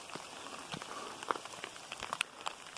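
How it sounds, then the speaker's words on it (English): Rain falling on a mountain, with scattered drops ticking and pattering over a steady soft wash, fairly close and moderately quiet with no talk. "we're on a mountain, and it's raining"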